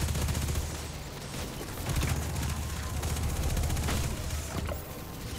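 SMG gunfire in Destiny 2 rattles in sustained bursts through a busy firefight, loud and close, with brief dips between volleys.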